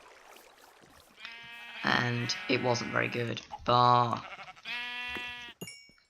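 Minecraft sheep bleating in several quick close wavering calls, with someone briefly talking just before them.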